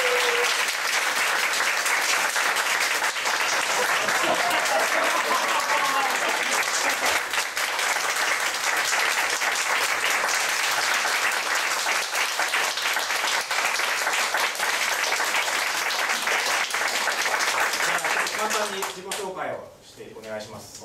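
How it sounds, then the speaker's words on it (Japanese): Sustained, loud audience applause fills a talk event hall as a mixed martial artist is welcomed on stage, steady clapping for nearly twenty seconds before tapering off abruptly at the end. "拍手でお迎えください。"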